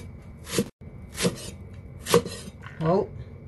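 A knife chops through a thick, crisp long red pepper on a cutting board in four distinct, evenly spaced strokes, each a sharp close thud with a brief scrape.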